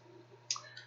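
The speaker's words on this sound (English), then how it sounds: "just right mouse click and select properties" A single soft computer mouse click, quick and faint, over a low steady hum from a desktop computer setup.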